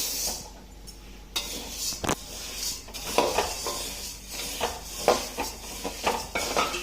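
Spices and lentils for garlic idli podi, including pepper, curry leaves, cumin and roasted gram, dry roast in a pan, with scattered metallic scrapes and clinks of stirring and a faint sizzle, close by.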